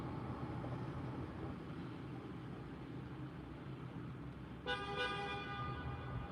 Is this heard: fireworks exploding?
no